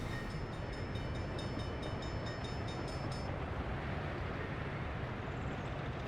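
Grain freight train in the city-building game Workers & Resources: Soviet Republic, a steady rolling rumble of railcars with high metallic tones in the first half, heard alone.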